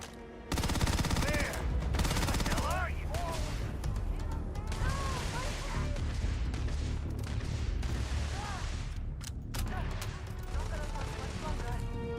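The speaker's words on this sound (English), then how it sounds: "What are they shooting at?" Gunfire in the video game Starfield: repeated bursts of shots and booming impacts through a busy combat soundscape, moderately loud, with a person talking over it at times.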